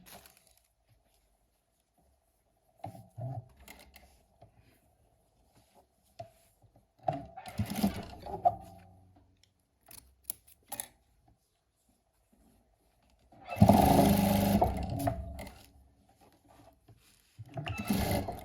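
A sewing machine stitches fabric scraps together for a crazy quilt. Short whirring runs of the motor come close and fairly loud, separated by quiet gaps and soft handling noises.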